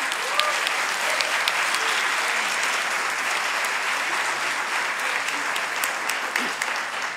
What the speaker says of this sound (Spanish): otro aplauso a Inmunotech, por favor